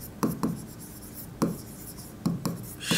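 Pen strokes scratching across paper in short bursts, a few quick scribbles separated by pauses, close and fairly quiet with no talking, while an accounting heading is written out.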